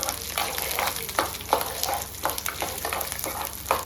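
Chilli and garlic fry in hot oil under a bright, crackling sizzle, with rhythmic stirring strokes about every third of a second, close and prominent.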